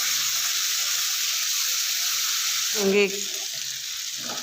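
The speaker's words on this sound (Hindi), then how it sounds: "ये देखें मसाला जो है अच्छे से भून रहा है।" Masala for kaleji frying in a pan, a steady loud sizzle throughout with a brief stirring scrape near the end and a single word spoken.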